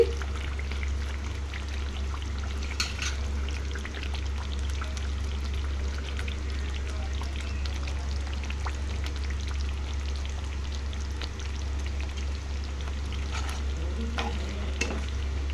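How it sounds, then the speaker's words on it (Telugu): Fried brinjals are tipped into a masala curry and stirred in a pan, giving a steady sizzle with scraping and soft stirring clatter throughout, with no talking. "మనము ముందుగా వేయించి పెట్టుకున్న వంకాయలు వేసుకుందామండి"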